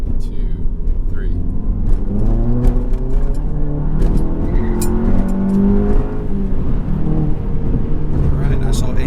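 Car fitted with a Baun Performance exhaust accelerating hard, a loud continuous engine rumble and rising rev tone close by, with a brief voice or two over it.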